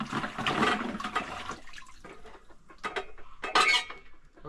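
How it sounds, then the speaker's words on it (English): Kitchen utensils are washed and rinsed under running water, with bursts of splashing, dishes and cutlery clinking, and quieter gaps between the rinses. "I'm done washing utensils."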